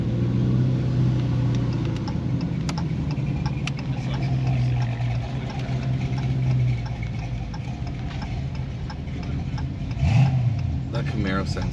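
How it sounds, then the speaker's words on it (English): A Chevrolet Camaro Z28 Los Angeles County Sheriff police car idles nearby with a low, steady engine hum that fades midway, as people talk over it. "That Camaro sounds so bad though, and it's a Z28 as well."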